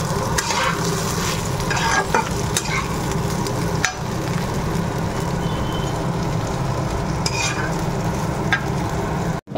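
Eggplant fritters sizzling in hot oil in a pan, a loud, continuous close-up crackle with occasional stirring clinks and no speech.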